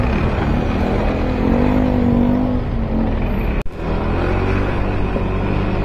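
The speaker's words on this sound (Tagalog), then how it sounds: "Nako, di na ubos yung traffic na to." Road traffic in Malolos, Bulacan rumbles loudly and up close, with engines droning and a car passing by, and a brief sharp dropout partway through.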